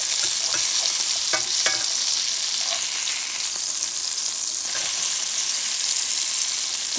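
Salmon pieces sizzle loudly and steadily in a hot pan, a dense frying hiss that runs throughout, with a few light stirring or scraping touches and no talking.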